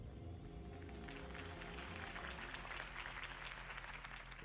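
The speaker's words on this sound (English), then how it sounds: "If only Mr. Wayne, my campaign's largest backer, could have heard that applause" Crowd applause in the video game Batman: The Telltale Series at a Harvey Dent campaign rally, a steady wash of clapping heard alone and rather faint, sustained throughout.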